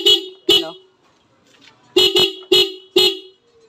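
Motorcycle horn tested in short honks: two quick beeps, a pause, then a burst of four rapid toots, loud and close.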